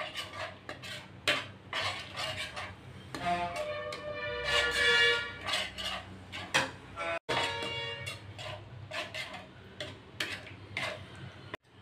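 A metal spoon stirs curd masala in a pan, scraping and clinking in a busy, steady rhythm of repeated taps with a faint sizzle underneath.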